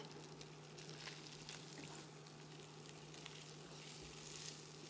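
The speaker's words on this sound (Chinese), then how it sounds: "翻炒均匀" Continuous loud sizzling as cooked rice is stir-fried with vegetarian meat in a hot pan, with steady crackling and scraping and no talking.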